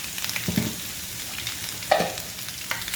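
Slit green chillies and garlic fry in a hot tadka for kadhi, giving a steady close sizzle with a few soft stirring clinks and small spatters throughout.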